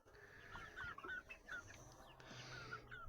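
Domestic broiler chickens around 35 days old, with larger young roosters among them, cluck and chirp in a faint but busy chorus of short repeated calls close by.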